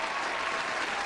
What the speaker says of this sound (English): Let me give you a last round of applause.